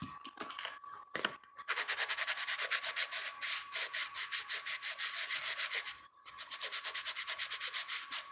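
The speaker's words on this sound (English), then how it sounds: "I'm gonna sand it a bit." Sandpaper rubs a small resin necklace piece in quick, steady back-and-forth strokes, close and evenly rhythmic, with one brief pause partway through.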